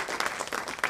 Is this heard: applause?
yes